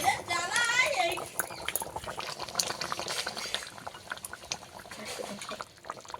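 Chicken curry with water added boils in a pot, giving a close bubbling and popping that runs throughout, while someone talks over it.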